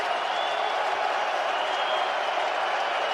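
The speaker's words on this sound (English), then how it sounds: "Good crowd here at the Coliseum urging on this defense" Stadium crowd at the Coliseum cheering on the defense during a Seahawks at Rams NFL game, a steady, dense roar filling the whole clip without letting up.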